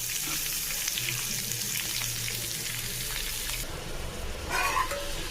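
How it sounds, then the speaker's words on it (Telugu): Chopped medium onions and green chillies frying in oil in a pan on a low flame, giving a steady close sizzle that continues throughout, with no talking. "ఇప్పుడు ఈ ఉల్లిపాయలు బాగా వేగనివ్వాలి సిమ్లో పెట్టి"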